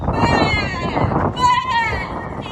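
A person's voice imitates a goat's wavering bleat twice, nasal and quavering, loud and close.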